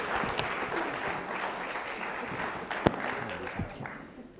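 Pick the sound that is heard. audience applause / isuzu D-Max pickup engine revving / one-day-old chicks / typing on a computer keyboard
audience applause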